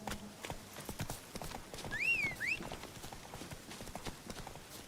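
A horse in The Witcher 3 game trots with quick, crisp clip-clop hoofbeats and gives a short, rising and falling whinny partway through, all faint and somewhat distant.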